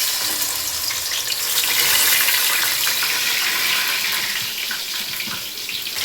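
Chopped onion hits hot oil in a pan, giving a loud, steady hissing sizzle that fills the whole stretch with no talk over it.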